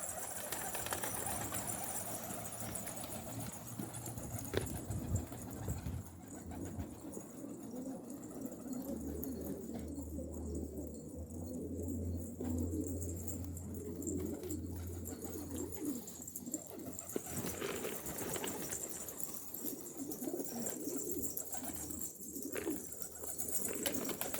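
Garip breed pigeons cooing outdoors after being released, soft repeated coos over a steady low hum of background noise, moderately near, with no talking.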